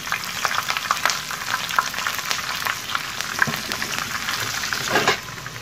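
Cumin seeds with green and dried red chillies sizzle and crackle in hot oil for kadhi pakora. The frying is close and steady, with dense popping and stirring throughout and no talk.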